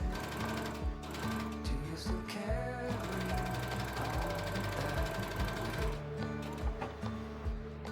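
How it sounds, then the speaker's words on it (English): A sewing machine runs a straight stitch along bikini binding, its rapid rhythmic mechanical chatter close and steady with a few brief pauses and restarts, alone without speech. "I'm going to sew a straight stitch around ½ centimeter away from the edge, just to hold everything in place."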